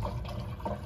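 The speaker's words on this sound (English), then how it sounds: "it's filling up the third tower" Water runs steadily as it fills a tower of a 109-pod hydroponic garden, a continuous moderate liquid rush with slight gurgling, close and alone for under a second.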